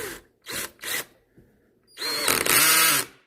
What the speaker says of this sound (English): Now you go ahead and tighten the stainless steel screw clamp.